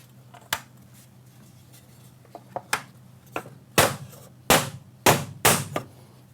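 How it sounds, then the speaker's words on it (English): A rubber mallet strikes a block to snap a bi-fold door jamb cover into place, giving a string of sharp, close knocks that start sparse and grow louder, with five or six firm blows near the end and no talk. "Using a block and a rubber mallet, you can snap it in."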